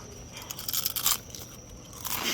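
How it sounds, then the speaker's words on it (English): Someone munches crunchy food close up during a truck repair, with a steady run of crisp crunching bites and chewing over faint background noise and no talk. "Are you about to fucking munch that?"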